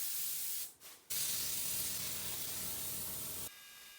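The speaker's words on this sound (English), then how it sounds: "And this is that DeVille Bliss sprayer." A DeVilbiss spray gun driven by an air compressor at 55 PSI sprays finish on a walnut kitchen island in steady loud hissing bursts, with one short break early on and a change in tone near the end.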